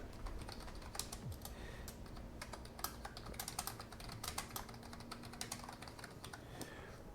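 Fast, irregular typing on a computer keyboard, crisp clicks in uneven bursts with short pauses, close and fairly quiet against a soft background hum.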